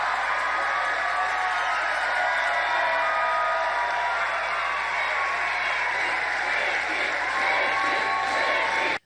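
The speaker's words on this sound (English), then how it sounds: "the crowd simply cheers" A political rally crowd for Nikki Haley cheers and claps in a sustained, loud wash of noise, with scattered whoops over dense applause, cutting off abruptly at the end.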